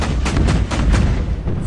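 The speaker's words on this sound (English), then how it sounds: "Just gonna take a shot at the fighter." A gun fires at a fighter in Order of Battle, the Winter War strategy game, producing a rolling series of heavy booms and thumps with a deep rumbling body, loud and close.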